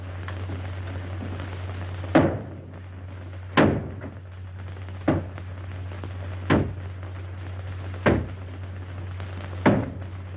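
A door is battered in a 1938 film, six heavy, evenly spaced thuds a second or so apart, each ringing briefly over a steady low hum.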